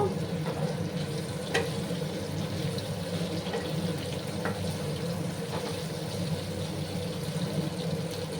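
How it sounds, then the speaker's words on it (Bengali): Chilli spice paste sizzling in a pan while being stirred, with a steady frying hiss and occasional scraping clicks of the spoon, no talking. "তো এবার আমি আবার নাড়াচাড়া করে দেবো।"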